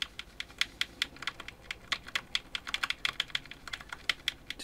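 Rapid, irregular plastic clicking of a cheap Nintendo Switch Joy-Con controller being pressed and worked during a stick-drift repair with IPA, close and fairly quiet, dozens of sharp taps in uneven bursts.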